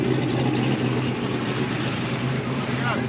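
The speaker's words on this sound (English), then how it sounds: "Instead, you're hearing the other cars drive by." Race cars at Rocky Mountain Raceweek pass by, a continuous low engine drone that stays steady and moderately close for the whole stretch.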